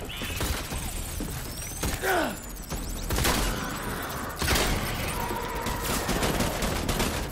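Shotgun fire during a street fight in Death Stranding: several loud booming shots spaced out among mechanical reload clicks and clatter, with busy combat noise around them.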